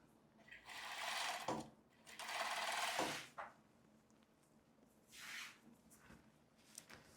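A sewing machine joins two fabrics at the waistband of a long casual skirt, whirring in two longer runs and then a shorter one, faint and close with quiet gaps between.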